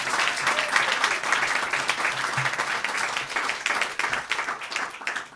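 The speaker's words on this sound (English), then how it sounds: "Give her a big round of applause." An audience at a toast-and-roast honors event breaks into sustained applause, a dense wash of clapping that carries on without a break.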